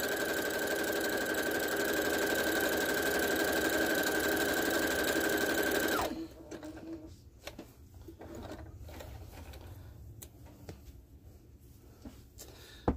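A sewing machine runs steady, close stitching for applique for about six seconds, a continuous motor whir with a faint whine, then stops, leaving quiet room noise and small handling clicks.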